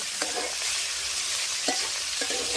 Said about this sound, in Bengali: আমি এবার বাঁধাকপি কুচিগুলো দিয়ে দেবো, দিয়ে আমি নেড়ে চেড়ে